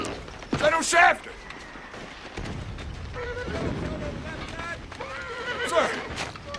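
Horse neighing on a cavalry battlefield, a couple of shrill whinnies rising out of clattering hooves and commotion, mixed with shouted voices nearby.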